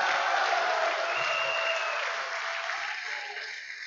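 A crowd at a political rally in Perak applauds with a broad, roaring wash of clapping and cheering, loud at first and slowly fading toward the end.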